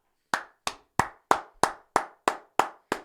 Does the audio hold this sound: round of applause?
yes